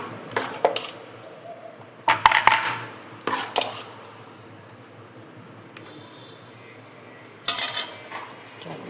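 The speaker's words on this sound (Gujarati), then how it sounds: "ચાલો એક ડીશ બાફવા મૂકવાની છે મૂકી દઈએ આપણે" Ceramic dishes of sour dhokla batter clink and knock as they are set into a steamer, a few sharp clatters spaced across the stretch with quiet gaps between, close by and with no talk.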